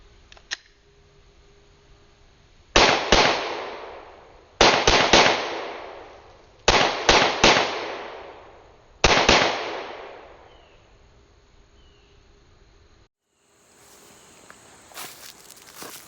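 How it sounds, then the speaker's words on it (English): Glock 17 pistol mounted in an MCK chassis fired at 7 yards in four rapid bursts of double and triple taps, sharp loud cracks with short echoing decay, separated by brief pauses, followed by quiet handling noise. "I'm going to start out from a distance of 7 yards and just come up and put some quick double taps and triple taps on the target"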